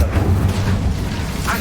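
Hogwarts Legacy's Incendio fire spell hits a boiler with a loud, deep, rumbling burst of flame that roars steadily for a moment at close range.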